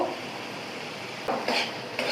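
A spoon stirs a mash of pointed gourd peel in a pan over a low flame, soft continuous scraping with a few sharper clinks of metal against the pan near the end.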